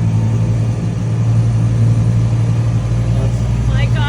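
A sailboat's inboard engine, running near 2,000 RPM while motoring, is throttled up into a loud, steady, droning hum.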